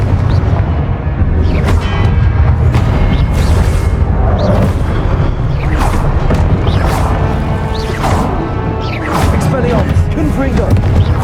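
Confringo blast spells explode in a Hogwarts Legacy duel, deep booming bursts recurring every second or two over a dense, continuous wash of game noise and music.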